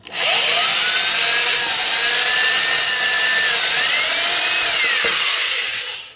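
A power drill fitted with an oversized bit bores through wood on a circle-cutting jig, a loud steady whine holding for about six seconds with a small pitch wobble before it winds down.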